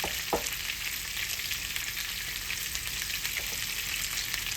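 Potatoes and onions fry in a pan with salt and pepper, giving a dense, even, close sizzle and hiss that holds steady throughout, with a brief utensil tap near the start.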